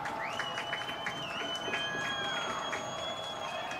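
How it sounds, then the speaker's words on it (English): A home crowd at a high school football game cheers and applauds, with shrill whistles and a dense roar of fans that holds steady from start to finish. "Home crowd makes some noise."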